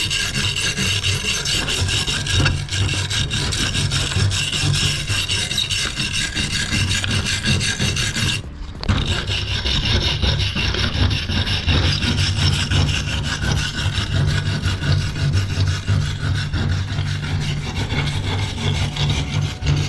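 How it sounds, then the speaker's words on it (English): An angle grinder with a wire wheel scrubs welds on thick steel, giving a loud, continuous, rough brushing whine with a steady motor hum underneath. There is one brief break near the middle, and no talk. "So let me clean this up with the wire wheel"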